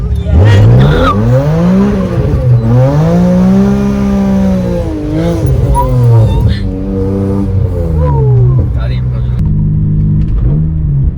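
A straight-piped BMW engine revs loudly up close, climbing and dropping through several sharp rises with tire noise, while people talk over it.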